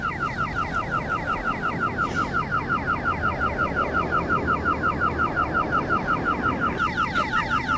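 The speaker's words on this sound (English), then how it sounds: "It's letting me ride it, but it's constantly alarming." A scanned rental bike's alarm beeps constantly in a fast, steady repeating pattern, loud and close, running the whole time over low street and traffic rumble.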